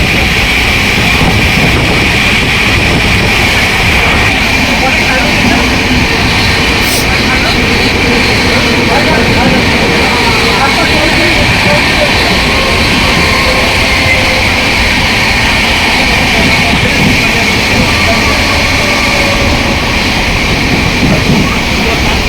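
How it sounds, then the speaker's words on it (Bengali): Loud, constant rumble and rattle of a train running at high speed, heard from inside a carriage on the way to Prayagraj for the Maha Kumbh, with steady roar throughout and no pauses. "ট্রেন একদম ছেড়েই খুব স্পিড নিয়ে নিয়েছে একদম হেভি স্পিডেই যাচ্ছে ট্রেন"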